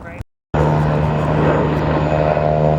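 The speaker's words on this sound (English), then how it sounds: "you're gonna see a float plane take off" A float plane takes off across the water, its propeller engine a steady, loud droning roar after a brief silent gap, heard outdoors on a walk in Steveston.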